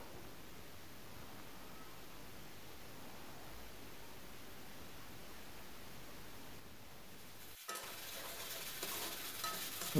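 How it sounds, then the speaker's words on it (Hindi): Onions fry lightly in hot oil for chana dal, a quiet, continuous sizzle mixed with gentle stirring that grows slightly brighter and louder after a brief break near the end. "प्याज हल्का फ्राई करे सो।"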